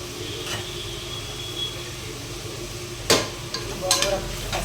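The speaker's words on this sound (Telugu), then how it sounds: "అల్లం వెల్లుల్లి పేస్ట్ కొద్దిగా ఫ్రై అవ్వాలి" Ginger garlic paste frying in a pan with green chillies, tomato, onion, coriander and a little turmeric, giving a steady crackling sizzle with a few sharper spatula scrapes and stirs near the end.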